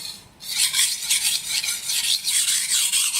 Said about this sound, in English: It's the paste that actually creates the abrasive stone that actually sharpens the knife.